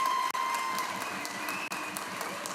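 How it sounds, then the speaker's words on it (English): Applause in a state Senate chamber for a departing senator, a steady wash of clapping that sounds moderately distant and holds evenly, with two brief dropouts. "a big round of applause"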